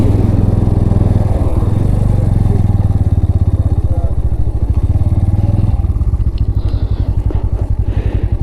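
A motorcycle rides up high-altitude Baralacha La pass in Ladakh at 16,040 ft, engine loud and close with a steady rapid thrum, plus clatter and wind noise throughout.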